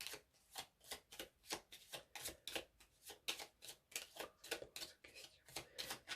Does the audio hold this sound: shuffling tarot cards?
yes